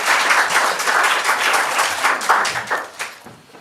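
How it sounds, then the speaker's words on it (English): An audience at a conference session on digital interventions breaks into steady applause, dense clapping that holds for a few seconds and then thins out near the end, with no talking over it. "So a big round of applause for you."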